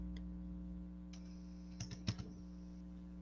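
A few quiet keystrokes on a computer keyboard, bunched in a brief cluster over a constant low electrical hum in a quiet room.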